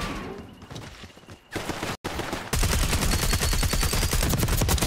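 Rapid automatic gunfire from a weapon in Call of Duty: Black Ops 6, loud dense bursts of shots that run almost nonstop, thinning briefly before a full cut of silence and then a heavier sustained barrage.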